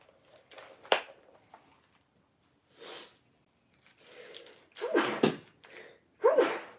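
A sharp, close sneeze-like burst, followed by a few breathy snorts and quieter rustling noises with short pauses between them.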